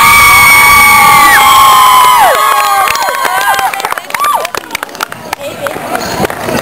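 Crowd cheering and whooping at a volleyball championship game, loud and sustained, with shouting voices and babble throughout and excited high-pitched yells rising and falling across the crowd.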